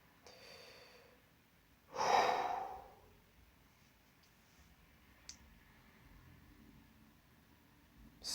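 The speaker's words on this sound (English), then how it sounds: "You feel warm breathing against your ear from behind you." A single close, warm breath exhales from behind at ear level, a soft horror effect rising and fading over about a second, followed by quiet stillness and a few faint clicks.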